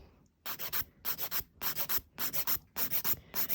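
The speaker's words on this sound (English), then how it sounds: "I'm going to go in with my 150 grit file, and I'm going to file that line through." A 150 grit file rubbing over an acrylic nail in quick bursts of three or four rasping strokes, close and crisp, separated by short pauses, with no talking.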